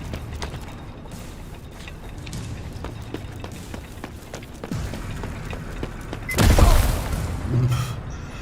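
Bombs going off in the Necromunda: Underhive Wars game: one loud, heavy blast erupts near the end, following a stretch of scattered mechanical clanks, thuds and distant booms.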